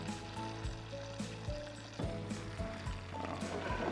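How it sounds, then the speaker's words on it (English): Onions sizzling as they brown in a pan with beef for a bush-cooked stroganoff, a continuous close frying hiss with clicks of utensils and pan taps, no voices. "Now the onions are going in to get browned as well. Oh, hear that sizzle."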